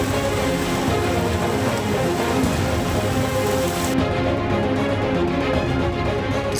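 Heavy rain pouring steadily during a thunderstorm in Chikkamagaluru, Karnataka, a loud, dense, unbroken hiss of falling water with no voices.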